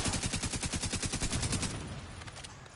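Rapid shotgun fire in The Division 2, a fast train of loud, evenly spaced blasts for about a second and a half that then thins into scattered, fading shots.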